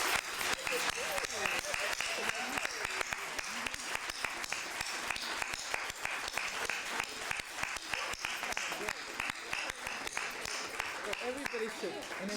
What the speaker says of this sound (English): I think we should applaud the sisters who've come on stage